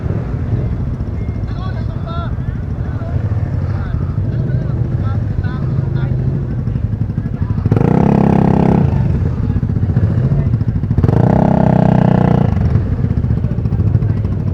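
Motorcycle engines at a national motorcycle club convention in the Philippines, a steady loud rumble with two strong revving bursts, people talking over the noise.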